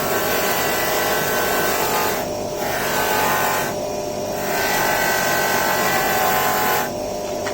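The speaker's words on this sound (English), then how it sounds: "I'll do it in real time so you can actually see that Scotch-Brite wheel on." A motor-driven Scotch-Brite wheel whirs loudly and continuously while scrubbing corrosion off engine bolts from a 1980 Yamaha XJ650, its steady grinding hiss dipping briefly three times as contact eases, no voices.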